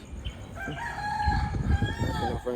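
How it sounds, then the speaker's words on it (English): A rooster wandering around a yard crows once, a clear, fairly close cock-a-doodle-doo over light background noise, with a short clucking note at the end. "There's Rooster that walks around."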